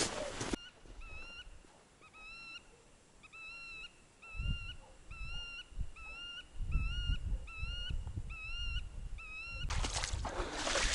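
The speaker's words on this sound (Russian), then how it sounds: "Очень много гусей идет." Geese honk repeatedly from a distance over a marsh, a flock calling in a steady rhythm over wind and low outdoor rumble.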